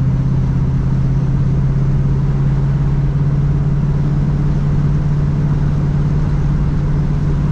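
A 1968 Chevrolet Camaro drives along with a steady, loud engine drone and a constant low hum. The recording is close and continuous, and no distinct gear change stands out.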